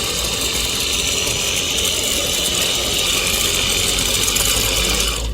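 A Mediashop Hammersmith HydroBlast cordless power washer sprays steadily with a constant hissing, whirring drone that stays loud and unbroken and ends abruptly, with no voices.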